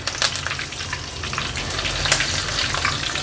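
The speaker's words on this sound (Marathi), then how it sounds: "ह्याचा कलर चेंज होईपर्यंत आपण ह्याला फ्राय करून घ्यायचं आहे" Green chillies and curry leaves fry in hot oil over a high flame for farali potato chivda, giving a steady close-up sizzle with crackling pops throughout and no talking.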